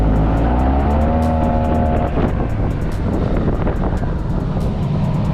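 Yamaha T-Max TechMax 2025 motor scooter riding, a loud steady engine drone with rising tonal whine and constant wind rush at close range.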